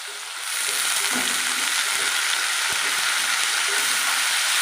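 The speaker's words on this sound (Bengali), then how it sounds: "দিয়ে থোরটা দিয়েও হালকা করে ভাজবো, থোর আর আলুটা।" Banana stem and potatoes fry in a pan with a steady, loud, even sizzle that swells in early on and then holds, broken by a few faint stirring knocks, with no voices.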